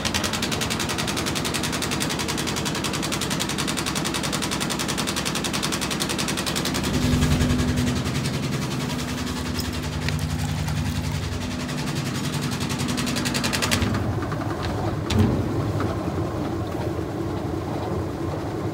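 A 1996 Whirlpool direct drive washing machine runs its first load with a loud, steady mechanical drone and a rattling hum that swells slightly midway, then drops in level near the end with a brief knock.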